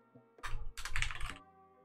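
Fast typing on a computer keyboard while entering game script code, two close bursts of dense clicking separated by a short pause, with no talking.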